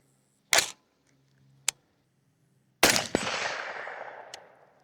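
A gas-tuned rifle fires at a 77-yard target on a ranch, giving a few sharp, loud reports spaced apart; the last blast rings out into a long fading echo across open ground.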